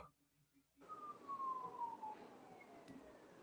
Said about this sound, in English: Cop siren.